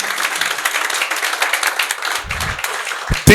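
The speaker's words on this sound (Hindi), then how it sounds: "ज़ोरदार तालियां बजाइए खुदा के जलाल" Strong applause fills a church service, a dense, steady clapping from the congregation that runs throughout, ending in a few louder close claps.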